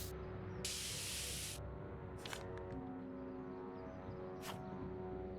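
Spray paint can spraying graffiti in the Back to the Future game, a sharp one-second hiss followed by a few shorter bursts over a low background hum.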